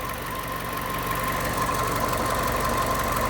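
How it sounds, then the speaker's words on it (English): Ford Ka engine running with a leaking exhaust, a close, steady rumble carrying a rapid chuffing pulse and a faint whine, with no talk over it. "there's your exhaust blow. Oh yeah, it's chuffing away merrily, isn't it?"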